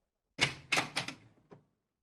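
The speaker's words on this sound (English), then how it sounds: "the same servant opened the door" A house door is opened by a servant on arrival, giving a few quick knocking thumps and a clatter in close succession, then a softer final bump, with no talking.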